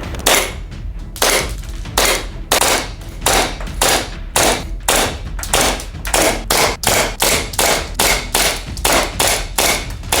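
Rapid, sharp snapping shots from a full-metal gas blowback airsoft pistol, a KJ Works KP-16 with compensator, fire one after another in a steady rhythm, loud and close, roughly two per second.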